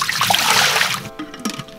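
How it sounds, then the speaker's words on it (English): Water pours and splashes out of a deionization cartridge from an aquarium RODI filter unit, a loud close gush that cuts off into a few smaller trickles and drips. "Probably should dump out the water first."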